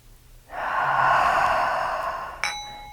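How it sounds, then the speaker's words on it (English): A single long, deep breath drawn and released during a guided healing meditation, soft and close, lasting about two seconds in a quiet room, ending with a faint click. "So let's take another deep breath together."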